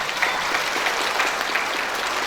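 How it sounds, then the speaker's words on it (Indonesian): Audience clapping at a high school graduation and farewell ceremony in Indonesia, a dense, lively burst of many hands, steady and fairly loud throughout. "Tepuk tangan."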